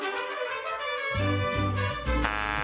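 A short excerpt of mariachi music plays, with bright trumpets and strummed guitars over a bouncing bass line, loud and full, with no one speaking.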